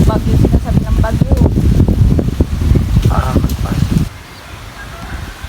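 Strong gusting wind buffets the microphone outdoors under an overcast sky just before rain, with a voice talking over the loud rushing gusts before the wind drops to a softer hiss.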